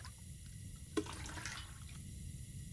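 A brief, faint slosh of toilet water in the survival video game The Long Dark, with a short trickle over a quiet background.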